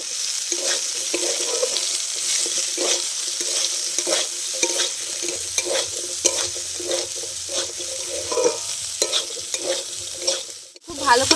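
Spiced cauliflower and potato for singara filling are stirred in a hot pan, with rhythmic spoon scrapes repeating about once a second over a steady, close sizzle.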